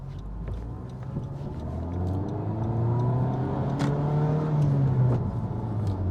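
A car engine revs and pulls hard in sport mode, pitch climbing smoothly as it accelerates, heard from inside with a steady road rumble underneath.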